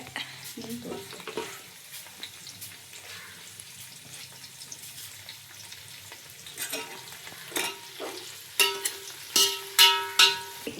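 Onion and mint fry in oil for a quick chicken biryani, giving a soft sizzle with scattered stirring scrapes and clinks that grow louder and more frequent toward the end; nobody speaks.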